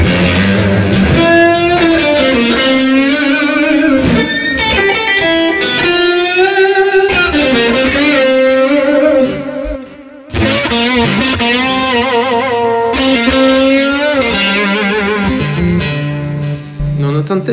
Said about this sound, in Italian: questo è proprio un clean boost che è andato in distorsione